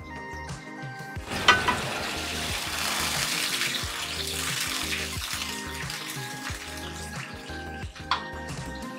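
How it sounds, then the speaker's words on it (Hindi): Steady watery hiss and bubbling from a pot of water heating on the stove for mango gudamba, with a couple of sharp clinks, continuous throughout with no talking. "अब ये पानी में जोश आने देते हैं"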